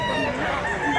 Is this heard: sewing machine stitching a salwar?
no